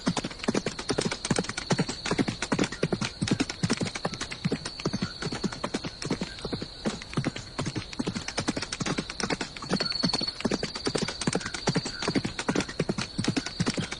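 A horse's hooves clop in a fast, continuous rhythm as a king rides at midnight, close and steady for the whole stretch, with a brief whinny in the middle.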